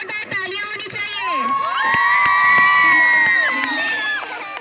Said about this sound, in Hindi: नन्हे नन्हे प्यारे बच्चों के लिए जोरदार तालियां होनी चाहिए।